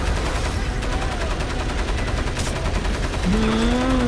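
Rapid automatic gunfire in the video game Crysis Remastered, a dense, loud, continuous stream of shots, with a rising tonal whine entering near the end.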